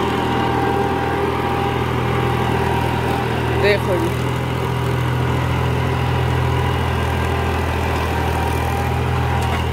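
A Balwan 400 tractor engine runs in a farm field, giving a steady, unbroken low drone close by, with a brief voice over it.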